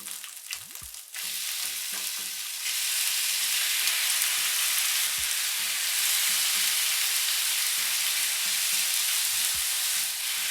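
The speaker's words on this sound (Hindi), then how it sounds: "चिकन को लहसुन अदरक के पेस्ट के साथ अच्छे तरीके से भून लेंगे।" Chicken pieces fry with golden garlic ginger paste in a pan, giving a loud continuous sizzle close to the ear, with scattered stirring knocks and scrapes throughout and no talking.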